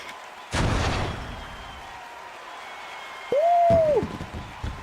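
Fireworks go off in the video game The Great Ace Attorney Chronicles with a sharp booming burst, then a whistling rise and a second burst, against quieter game background sound.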